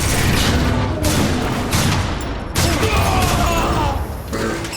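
Gunfire and explosions crackle through a Transformers: War for Cybertron battle, with dense continuous shooting and several heavy booms, one likely a grenade blast, loud and close throughout.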